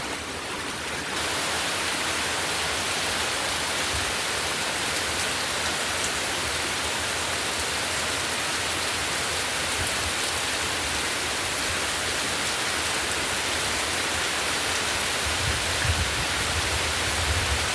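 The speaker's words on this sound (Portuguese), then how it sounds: "Toda noite a chuvona chega e" Heavy rain at midnight, a dense, steady hiss of downpour that stays loud and unbroken throughout, with no voices.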